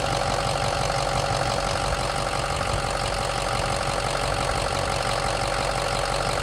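Engine started for the first time after a two-day cold soak, idling in a loud, close, continuous drone with an even low rumble and no voices.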